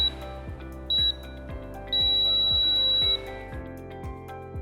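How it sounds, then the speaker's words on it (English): An induction cooktop ending its cooking cycle and switching to standby sounds a short electronic beep, then a longer sustained tone, over a steady low mechanical hum with rhythmic ticking. "the device will end cooking and then switch to standby mode after 3 beeps"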